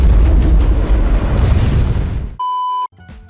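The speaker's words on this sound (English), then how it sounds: "The explosion, however, was as real as it gets." A real practical explosion set off for a movie scene roars loud and broadband, then cuts abruptly to a steady electronic tone and quieter sounds.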